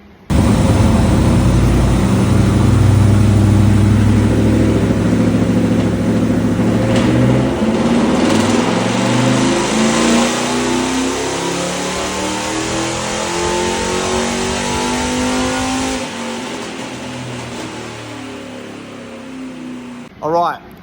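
Engine fitted with a tunnel ram and a Walk This Way cam, run on a Haltech ECU, revs loudly up through a long rising sweep, then drops back before a brief final blip, with voices over it.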